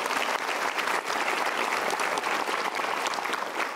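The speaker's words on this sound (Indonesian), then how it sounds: "Kita berikan tepuk tangan dulu" Studio audience applause at an Indonesian motivational talk show, dense and steady clapping throughout with a brief dip near the start and again around one second, no voices over it.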